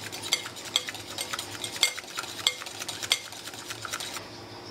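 A spoon stirs a vanilla ice cream mixture in a bowl, scraping and clinking against the side in a steady rhythm of about five or six strokes, close and clear with no talking.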